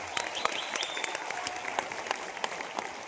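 An indoor audience at a business program in Surat applauds, a dense patter of many hands clapping steadily at moderate distance, with faint voices mixed in.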